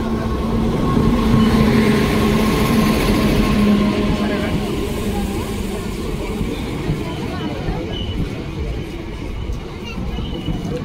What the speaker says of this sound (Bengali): আর কৃষ্ণনগর সিটি জাংশনের 2 নম্বর প্ল্যাটফর্মে ঢুকছে 13113 আপ কলকাতা লালগোলা